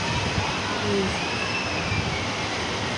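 A jet ski engine running out on the sea on a fine summer day: a steady, droning motor roar that stays fairly loud and even throughout.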